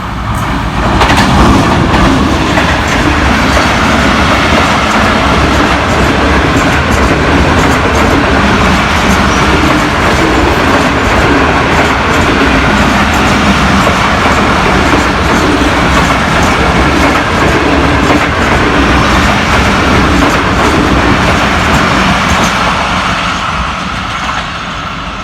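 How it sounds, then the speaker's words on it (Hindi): The Tezgam 7 Up express train passes through New Multan railway station in Pakistan, a loud, steady roar of wheels and rail clatter that lasts throughout and eases slightly at the end. "हमारी 7 up Tezgam new Multan railway station से थ्रू गुजर चुकी है"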